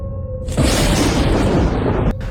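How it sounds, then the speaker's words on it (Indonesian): A deafening thunder boom from lightning striking a rock in a forest bursts in suddenly after a faint tone, holds as a loud, rumbling roar for about a second and a half, then stops sharply. "Cahaya menyilaukan, suara ledakan memekakan telinga. Ya, batu itu disambar tepat di tengah."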